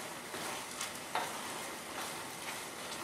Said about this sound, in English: Give that a quick stir around.